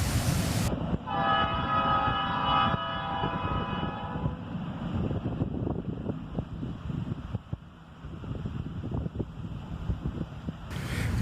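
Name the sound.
Canadian National C40-8 locomotive train crossing bridge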